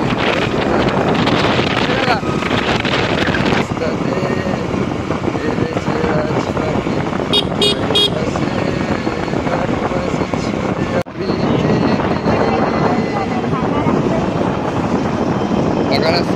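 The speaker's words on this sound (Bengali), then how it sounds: "বাইক চালাচ্ছি" A motorbike ridden along an expressway, with loud constant wind buffeting the microphone and engine and road roar underneath, unbroken for the whole stretch apart from one brief dip.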